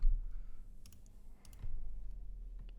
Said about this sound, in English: We'll again type in our employee code.